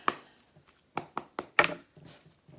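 A deck of tarot cards being cut and shuffled by hand, giving a handful of crisp, close card snaps and slaps in an irregular rhythm, with quiet pauses between them and no talk.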